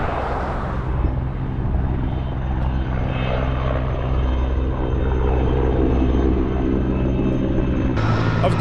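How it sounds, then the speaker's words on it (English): A helicopter drones overhead in Malibu after a wildfire, with a continuous low rotor rumble and whine, steady and fairly loud throughout. "you can still hear the helicopters going"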